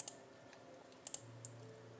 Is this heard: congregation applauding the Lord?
no